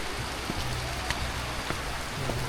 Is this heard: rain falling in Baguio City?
yes